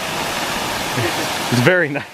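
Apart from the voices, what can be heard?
waterfall on the West Coast Trail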